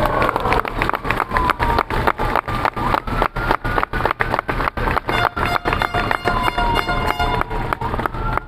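A crowd at the Señor de los Milagros de Nazarenas procession in 2024 claps in a steady, rhythmic beat that stays loud and regular throughout, with faint voices underneath.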